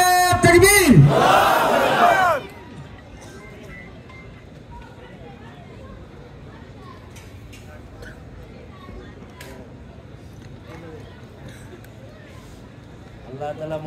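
A crowd at a Bengali Islamic religious gathering shouts the takbir in unison after the call. The loud, massed chant lasts about two seconds, then gives way to a faint murmur of background noise.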